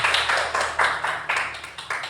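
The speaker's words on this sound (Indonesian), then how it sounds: "Tepuk tangan dulu buat Pak Habib." Audience applause for a presenter at an education seminar, a steady wash of many hands clapping with a few swelling surges, moderately loud and close, with no voices over it.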